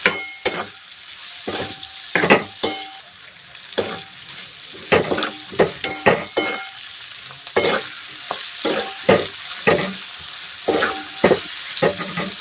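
Whole lemon mixed into a chili mixture in a pan, stirred in repeated sharp scraping strokes over a light sizzle, close and fairly loud with no talking.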